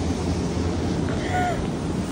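Steady wind on a cold night in New York City buffets the microphone with a low, constant rumble and rush throughout, no clear voices standing out.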